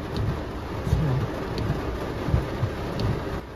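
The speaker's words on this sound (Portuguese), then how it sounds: "embaixo de chuva, tão trovão." Heavy rain drumming steadily on a car roof before dawn during a storm, heard from inside the car, with a few soft low rumbles of thunder rising over the constant wash of rain.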